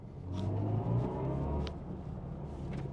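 A BMW i4 M50 electric car drives with a smooth, low synthetic sport-mode hum by Hans Zimmer and a whirring tone that rises slightly, steady and moderately quiet throughout.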